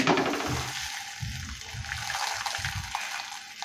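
Spinach paratha sizzles in ghee on a hot tawa, giving a steady close hiss with soft bubbling crackles underneath and no talking.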